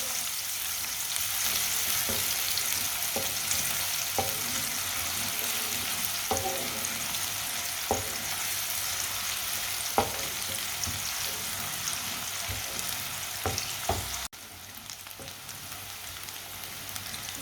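Finely chopped onion fries in a pan until lightly browned, a steady, dense sizzle like light rain, close by, with occasional faint taps from a stirring spoon.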